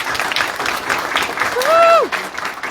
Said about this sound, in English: So let's give Suzanne a round of applause.